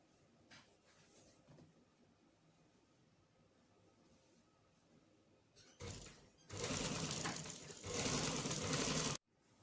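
A sewing machine stitching the side pieces of a jumpsuit, quiet at first, then a loud steady whirring run of stitching that stops abruptly near the end.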